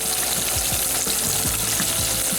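A whole blooming onion deep-fries in a pot of hot oil, giving a loud, steady bubbling sizzle. Soft low knocks and thumps come from the pot as the onion turns. No one speaks.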